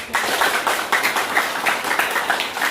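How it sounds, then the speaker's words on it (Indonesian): A group claps together in quick, steady rhythmic bursts, close by and fairly loud, without any talking. "Oke, kasih tepuk tangan."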